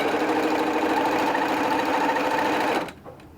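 A sewing machine stitching fat quarter quilt fabric runs in a fast, steady, close whir for nearly three seconds, then stops abruptly, leaving near silence.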